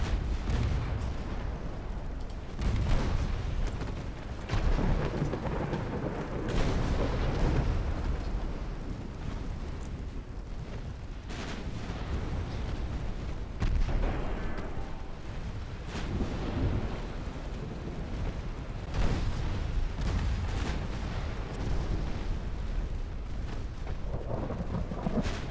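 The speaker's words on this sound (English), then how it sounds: "2-inch guns and 5-inch guns will work over the transports very quickly." Naval 2-inch and 5-inch guns pound enemy transports in a Greek campaign strategy game, a continuous rumbling barrage of deep booms rolling over one another for the whole stretch, with no voices.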